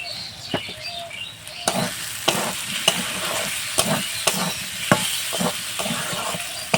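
Potato masala for ghugni being sautéed in a pan, with boiled potato and a spoonful of sugar, gives a steady sizzle broken by sharp, regular scrapes and knocks of a spoon stirring close up, with no talking.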